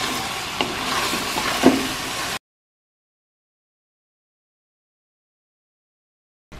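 Capsicum, tomato and carrot sizzle in a pan while being stirred, giving a close, steady fry with a few scrapes for about two seconds before the sound cuts to silence.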